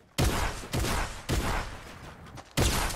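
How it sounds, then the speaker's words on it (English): A minigun in the video game Fortnite fires in four loud, sustained roaring bursts separated by brief gaps. "I'm gonna minigun him."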